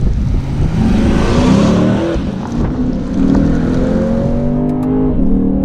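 Lexus GSF in manual mode with traction control off, its engine revving hard while driving: repeated climbing pulls through the revs that drop between gearchanges, loud and close, with no talk.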